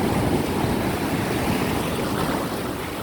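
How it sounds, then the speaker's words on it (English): Big ocean rollers break and wash onto a sandy beach where sea turtles nest, a loud continuous roar of surf with rushing wind, heard close with no voices. "Oh, big rollers."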